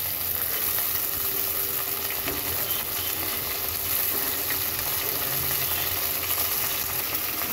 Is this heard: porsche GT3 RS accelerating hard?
no